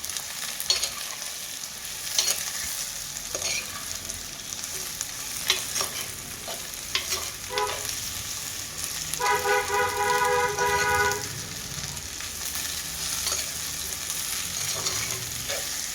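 Bottle gourd stirred and frying in oil with onion in a village-style kitchen: steady soft sizzling with occasional scraping stir strokes and a faint vehicle horn in the distance.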